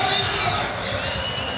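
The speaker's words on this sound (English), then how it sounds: "Good crowd in attendance" A stadium crowd at an NRL rugby league match, Bulldogs v Titans, a dense, continuous roar and murmur of many fans, heard under a commentator's voice.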